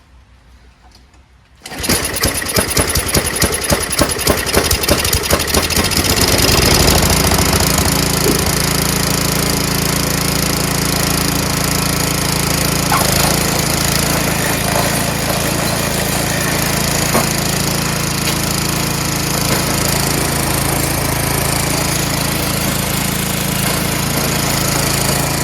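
After a moment of quiet, a Tecumseh 5.5 hp Yard Machines snow blower engine catches on choke at full throttle and roars to life, then keeps running loud and steady with a rapid, chattering putter.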